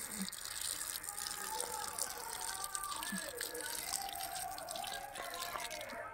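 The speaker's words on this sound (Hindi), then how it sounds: "तो उसमें पानी पटा दे रहे हैं" Water poured over tomato plants to irrigate them, a faint steady trickle with scattered drips and splashes continuing throughout at close range.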